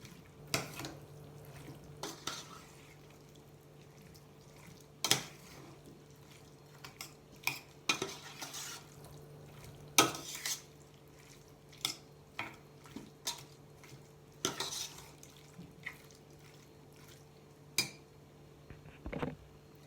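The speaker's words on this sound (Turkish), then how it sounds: "Şimdi bunların hepsini güzelce karıştırıyorum" Eggplant casserole ingredients with chili powder stirred in a pan, a spoon scraping and clinking in sparse, irregular taps over a faint steady hum, fairly quiet and with no talking.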